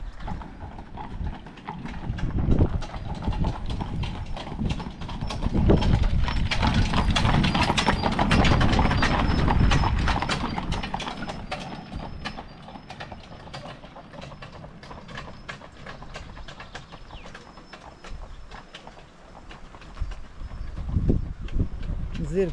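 Horses pulling a carriage clip-clop up a mountain road, hooves ringing in a brisk, steady rhythm close by, with rumbling wheels and mechanical rattle underneath and faint voices around.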